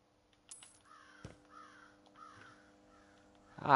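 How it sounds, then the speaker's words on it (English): A crow caws three times in a steady rhythm, fairly close and clear, in an otherwise quiet room with a faint steady hum. "shut up, you stupid crow."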